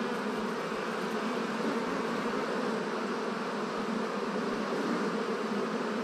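Honeybees buzzing at an apiary hive, a dense, steady, continuous drone of many bees close by, unbroken and even in loudness throughout, with no voices.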